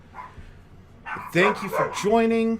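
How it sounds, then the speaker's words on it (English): Several dogs bark and yip loudly and close by, with excited overlapping barks building in the second half while a person talks. "Excuse my dogs, they are going crazy tonight."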